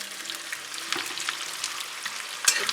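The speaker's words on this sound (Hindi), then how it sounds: "ଏବେ ପିଆଜକୁ ଆମେ ଭଲ ଭାବେ ଭାଜିବା ଗୋल्डन ब्राउन ହେଲା ପର୍ଯ୍ୟନ୍ତ" Chopped onions sizzle and crackle in hot oil in a pan for an Odia mutton and potato curry, a steady close frying hiss with small pops and no talk.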